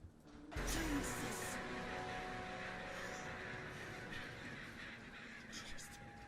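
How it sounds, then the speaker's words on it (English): Crows caw loudly in a sudden burst that starts a jump scare in the horror game Gray Dawn, then a dense, eerie game soundscape and tonal drones carry on beneath. "that's going to activate another spooky jump scare with some crows"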